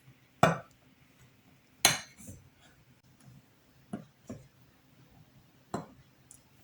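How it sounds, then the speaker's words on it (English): Cookie dough being mixed with salt in a bowl, heard as scattered clinks and knocks of a utensil against the bowl, a few sharp and close, separated by quiet pauses. "It's very hard to mix it because you don't want to spill."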